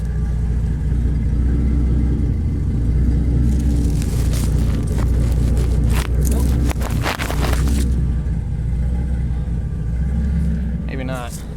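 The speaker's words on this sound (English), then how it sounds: "See if I can set this down and kind of give this a rev here." A Ford 300 turbo engine runs at close range with a loud, steady low rumble, swelling through a few throttle blips mid-way before settling back to idle.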